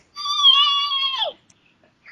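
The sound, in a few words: voice imitating Gizmo screaming from Gremlins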